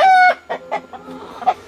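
Chickens cluck and squawk up close just after a fox attack on the flock, a loud opening squawk followed by a run of shorter, softer clucks.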